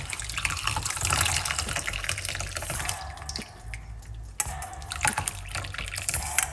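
A ginger mint lime drink being poured, a continuous splashing stream of liquid with gurgling and dripping that shifts in tone partway through, heard close and alone.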